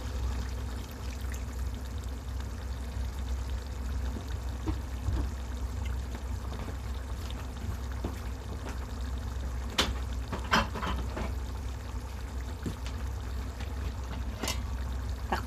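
Vinegar poured into shrimp paste (bagoong alamang) as it cooks, a steady liquid stream and trickle under a constant low background hum, with a few sharper clinks near the end.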